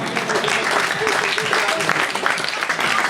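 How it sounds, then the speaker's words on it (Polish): Spectators clap continuously at a 5000 m track race in Częstochowa, an even, unbroken patter of applause throughout. "Prosimy o oklaski doping"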